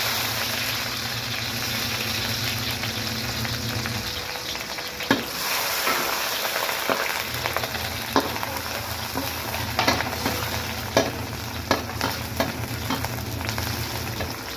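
Sliced onion hits hot cooking oil in a pan and sizzles steadily, a continuous close frying hiss broken by occasional scrapes and taps of a stirring utensil, with no talking.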